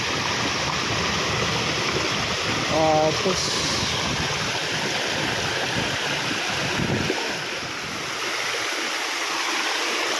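Steady rushing water of a waterfall and flowing stream in Sabang, Palawan fills the scene, with a voice speaking briefly over it.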